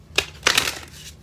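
Oracle cards shuffled once by hand, giving three short papery riffling bursts close up, with quiet gaps between them and no voices.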